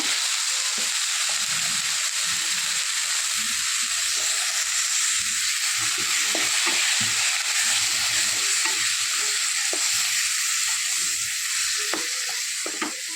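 Tomato puree for chicken tikka masala fries in hot oil with a steady, close sizzle and hiss, while a spoon stirs it in repeated scraping strokes throughout.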